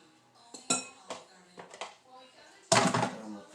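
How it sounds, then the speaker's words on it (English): A whisk strikes a bowl while cake mix is beaten for a pineapple upside-down cake, giving sparse clinks and taps. The clip ends in a louder, denser burst of clattering. "And use the whisk."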